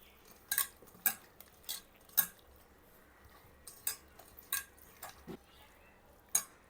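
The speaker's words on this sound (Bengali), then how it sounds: "এখন আমি এগুলো হাত দিয়ে মিক্স করব।" Raw chicken pieces are mixed by hand with spices in a bowl, with about a dozen sharp clicks and taps at irregular intervals over a quiet background.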